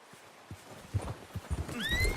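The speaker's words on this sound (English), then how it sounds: "get that horse in line, Arthur." A horse's hooves clip-clop in the Red Dead Redemption 2 video game, a few uneven steps growing louder before the horse gives a short whinny at the end.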